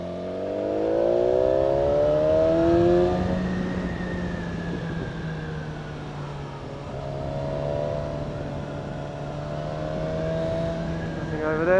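A BMW S1000XR motorcycle engine climbing and sweeping through Andorra mountain roads, its tone rising and falling with throttle and gear changes under steady wind rush, loud and close throughout.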